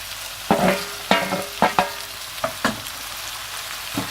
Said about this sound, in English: I'm just adding the coriander and the tomatoes